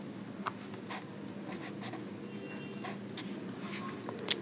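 Pen scratching on paper while writing a number, a soft steady scraping with small strokes, close and quiet, alone without talk.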